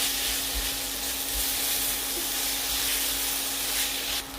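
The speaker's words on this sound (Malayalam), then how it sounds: "ഇനി അതിലേക്ക് അരച്ച് വെച്ചിരിക്കുന്ന ഇഞ്ചി, വെളുത്തുള്ളി, പച്ചമുളക് പേസ്റ്റ് ചേർക്കാം. ഇതിൻ്റെ പച്ചമണം മാറുന്നത് വരെ ലോ ടു മീഡിയം ഫ്ലെയിമിൽ വഴറ്റിയെടുക്കണം." Ginger, garlic and green chili paste sautés in a pan over low to medium flame, a dense continuous sizzle with a steady background hum and no talking.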